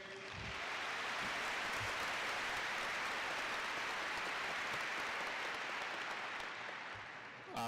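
Sustained applause from a large crowd at a high school graduation ceremony, a dense even clapping that holds steady for several seconds and then tapers slightly at the end.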